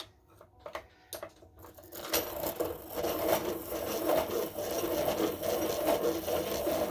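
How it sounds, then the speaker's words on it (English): A Dahle 133 crank pencil sharpener grinds vintage Prismacolor colored pencils on a tabletop, a steady close rasping whir after a few brief clicks and handling taps. "let's sharpen these three and see how they look together"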